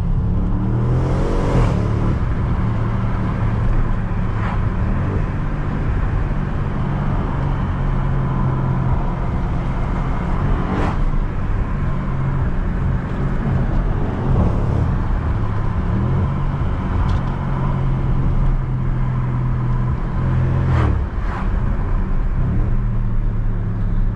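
A car engine runs and revs in a steady loud drone, rising and falling in pitch with occasional surges, heard alone without voices.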